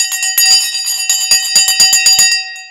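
A loud bell rings on a live stock market stream, struck in a rapid run of bright, sustained clangs that overlap and last a few seconds.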